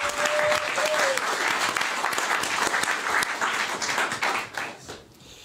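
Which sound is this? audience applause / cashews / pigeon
audience applause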